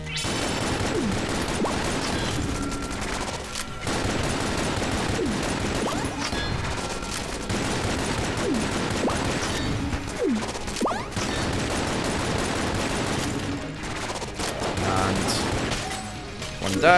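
The Frost Giant gun in Enter the Gungeon fires in dense, rapid volleys at a boss, loud cracking blasts and impacts piling up continuously with brief lulls, no talk over it.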